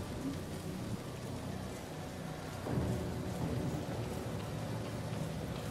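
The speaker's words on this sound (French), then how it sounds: "Ah, mais c'est parce qu'il pleut, du coup, voilà." Steady heavy rain pours in a video game shown at Electronic Arts' gamescom 2014 conference, with a low thunder rumble swelling midway through the constant hiss.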